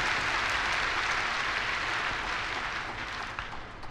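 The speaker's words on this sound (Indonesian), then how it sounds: "Mari kita tepuk tangan untuk dia." Congregation at a church worship service applauds a visiting theologian from the United States, a dense, steady wash of many hands clapping that holds loud throughout and eases slightly toward the end, with no talking.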